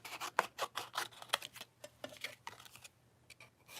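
Scissors snipping through paper shapes for a donut shaker card, a run of close, crisp cuts in uneven rhythm that thins out toward the end, with no talking.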